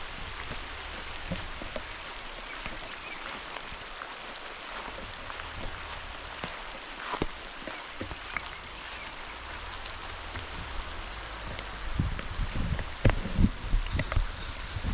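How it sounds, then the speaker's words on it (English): Rain falls steadily outdoors near a fishpond and goat shelter, a continuous broadband patter with scattered louder drops and rustling, growing somewhat heavier toward the end, with no voices. "I'm just hearing the rain is coming, much of the rain is coming"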